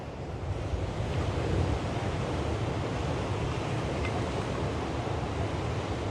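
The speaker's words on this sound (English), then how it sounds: "How was those waves?" Waves crash continuously at Margate Pier, a dense roaring wash of surf with wind buffeting the microphone, steady and loud throughout with no voices.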